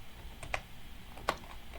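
Two crisp keystrokes on a computer keyboard, close and quiet, with a brief gap between them over faint room hiss.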